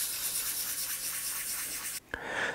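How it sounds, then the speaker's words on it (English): Hand sanding of a clear coat with a clogged, worn sheet of 400 grit sandpaper: a steady, close scratchy rubbing for about two seconds, then a brief pause before the rubbing resumes. "So after sanding with the 400 grit, I have a perfectly level surface"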